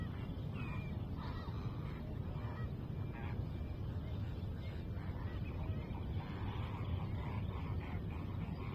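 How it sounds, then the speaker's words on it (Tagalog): A flock of birds calls near the sea by a mangrove nursery, faint honking cries scattered through heavy wind noise and low rumble, with no talk. "Ang daming ibon."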